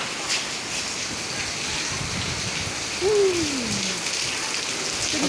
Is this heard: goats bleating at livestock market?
no